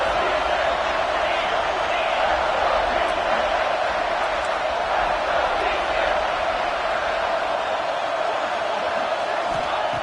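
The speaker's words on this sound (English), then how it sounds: "And here comes the noise. This crowd is trying to inspire this defense to make a big red zone stop." Stadium crowd noise in the College Football 26 video game, a steady roar rising before a red zone stop, broad and continuous throughout under light talk.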